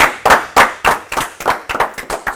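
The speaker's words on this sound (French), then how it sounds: "Applaudissements." A small audience applauds at the close of a football talk show, a few loud, irregular, close claps rather than a dense ovation.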